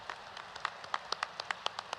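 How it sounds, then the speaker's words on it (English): Scattered applause from a high school commencement audience, faint and distant, made of sparse individual claps rather than a full ovation. "Please join me in a round of applause."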